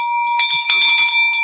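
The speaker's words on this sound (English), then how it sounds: "Drop that bell." A bell rung in a real estate wholesaling office to celebrate a deal rings out in bright, sustained metallic tones, struck repeatedly in quick succession, loud and close, with no talking.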